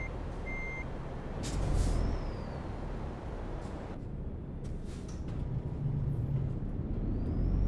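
An Iveco truck in Euro Truck Simulator 2 reverses with a steady low engine rumble, sharp reversing beeps and hisses of air brake release cutting in over the drone.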